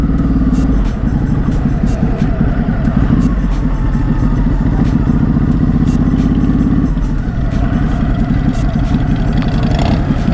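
A motorcycle engine at a bike night: a loud, close, continuous throaty rumble with a steady, gritty pulse and no clear pauses, holding strong for the whole stretch.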